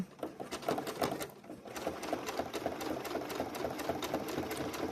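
A sewing machine runs continuously, stitching a serpentine blanket-stitch binding made from 2.75-inch strips. The close, rhythmic needle chatter carries on without a break and no one speaks.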